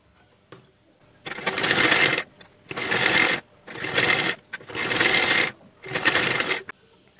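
Sewing machine stitching fabric for a blouse neck, running in five steady bursts of about a second each with short pauses between, close and clear with no talking.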